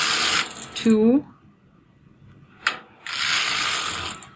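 A knitting machine carriage slides across the needle bed in two loud, rasping mechanical sweeps with a quiet gap between them. The sound is close, and a short spoken word falls in the gap.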